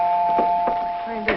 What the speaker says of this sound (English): The front door bell.